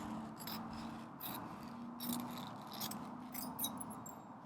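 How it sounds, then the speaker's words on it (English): Scissors trim the edge of muslin fabric while a corset bust is draped, making soft repeated snips and rustling fabric. The sound is close but faint, over a low steady hum, and no one speaks. "now I'm going to trim this off"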